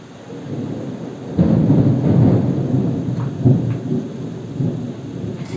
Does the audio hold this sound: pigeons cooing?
no